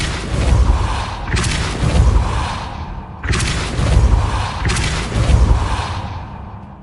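Two Depulso casts in Hogwarts Legacy, each a loud whooshing burst with a deep boom, the second following about three seconds after the first, both settling into a rumbling rush.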